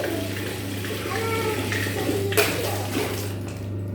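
Hot water poured into a child's bathing tub, a steady close splashing rush under a child's and adult's voices.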